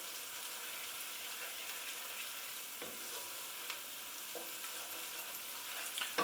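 Vegetarian puttanesca-style pasta sauce sizzles steadily in hot oil in a pan, with occasional soft scrapes and knocks of a spoon stirring it, close up and continuous with no talking.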